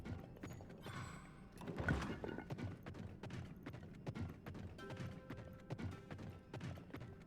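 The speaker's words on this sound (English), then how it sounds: "Oh my god, a horse." Horse hooves clip-clop in Final Fantasy XIV, with a steady run of faint, evenly spaced hoofbeats alongside light mechanical clicking and ambient game sounds.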